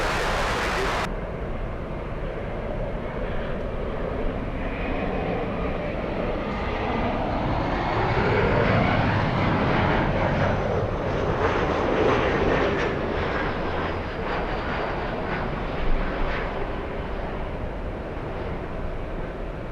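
Airliner landing at Los Angeles airport, its jet engine roar building to a broad, steady rumble that stays loud and continuous throughout, with a faint radio voice at the start.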